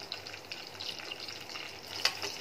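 Chopped onion, cut for egg fried idli, frying in hot oil in a pan with a steady, fairly quiet broadband sizzle and one brief sharper crackle near the end.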